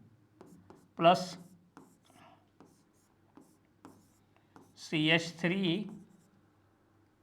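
Handwriting of chemical formulas for benzene isomers during a chemistry lesson, with soft, intermittent scratching strokes of a pen or marker under a speaking voice, close and quiet.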